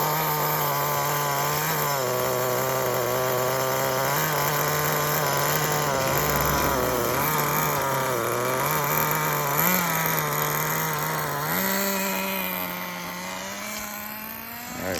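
An HPI RS4 nitro RC car engine whines loud and close with a buzzy, high-pitched tone, its pitch rising and dipping as the throttle surges and eases, then dropping off near the end.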